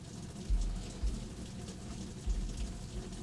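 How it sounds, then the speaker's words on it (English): Rain falls outside a room, a steady hiss heard from indoors, broken by a few low muffled thumps. "y'all can hear the rain?"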